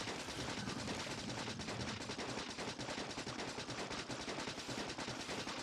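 Rapid, continuous gunfire from a shotgun in the Factorio video game, a dense, steady stream of shots at constant loudness with no pauses, close and filling the whole stretch.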